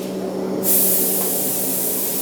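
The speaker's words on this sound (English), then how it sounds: "He's going to spray that center yellow, right?" A spray gun starts up partway through and keeps hissing loudly and steadily while applying a nitrocellulose sunburst finish to a Gibson guitar in a factory finishing booth, over a constant background hum.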